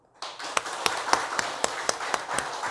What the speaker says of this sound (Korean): 한번 격려의 박수를 한번 들어주시기 바랍니다.